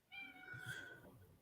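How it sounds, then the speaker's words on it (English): A cat meows faintly in a quiet room, giving one drawn-out, wavering call with no talk over it. "I hear a kitty cat."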